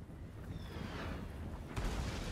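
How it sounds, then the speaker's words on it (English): Mortar fire in a Total War: Warhammer battle, a rumbling low roar of distant booms under steady battlefield noise, with a sharper thud near the end and no talking. "Oh my god, that mortar."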